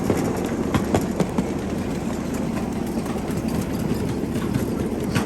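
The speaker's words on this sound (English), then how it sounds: "check out that locomotive" A 7.5-inch gauge miniature locomotive runs along a backyard-scale railroad, giving a continuous close rumbling engine drone with intermittent clicks from the wheels on the rail joints, and no talk.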